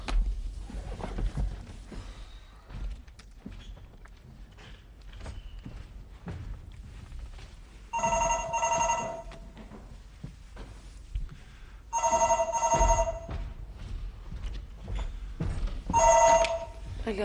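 Telephone ringing on stage during a 2014 Albanian theatre play: three separate, fairly loud bursts of ringing, spaced several seconds apart, come between spoken lines and footsteps.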